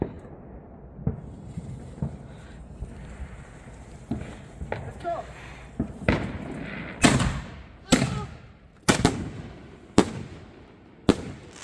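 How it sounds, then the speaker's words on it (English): Large consumer fireworks for the Fourth of July are lit and burst nearby, a string of loud, sharp booms spaced about a second apart with crackling between them. People talk in the background. "Our neighbors gave us these biggest fireworks I've ever seen."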